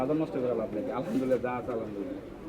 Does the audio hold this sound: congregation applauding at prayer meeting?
no